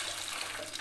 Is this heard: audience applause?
no